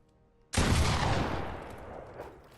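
Loud shotgun blast in Fortnite, fired at a built wall, a sudden sharp burst with a long rumbling tail that fades over two seconds, no talk.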